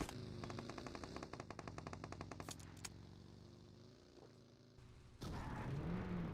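Rapid automatic gunfire bursts crackle in a battle royale video game, a fast regular stream of shots followed by a few isolated cracks and then a louder burst of gunfire mixed with game effects.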